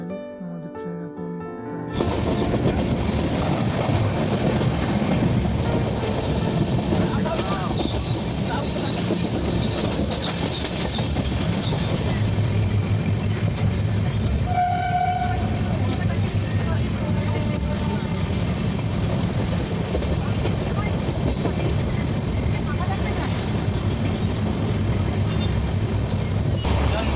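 Passenger train running between Howrah and Rampurhat, a steady loud rumble of the moving coaches throughout with faint rattles, heard from inside over onboard chatter.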